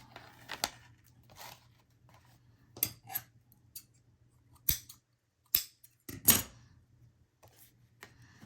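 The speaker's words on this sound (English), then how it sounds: "Now I've got my ribbon scissors out." Ribbon scissors snipping through craft ribbon, several sharp separate cuts spaced irregularly with quiet handling noises between them, close and clear.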